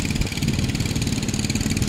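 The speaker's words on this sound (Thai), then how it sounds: "ลำสีส้ม ๆตอนนี้ก็ถอยมาจากเพลองค์การสะพานปลาแล้วก็กำลังเลี้ยวโค้งอยู่นะครับ" A fishing boat's engine drones steadily as the vessel backs away from a fish market pier and turns, with a continuous mid-pitched rumble and no talk.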